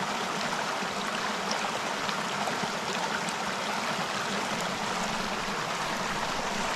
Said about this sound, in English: The sound of that creek is amazing.